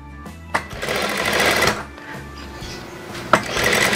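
A sewing machine stitches a double piped pocket in two close, loud runs of fast rhythmic needle clatter, separated by a brief pause and marked by sharp clicks at the start and midway, with no talking.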